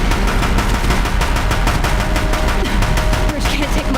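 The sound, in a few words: Deathbringer machines firing guns at bridge, from video game Horizon Zero Dawn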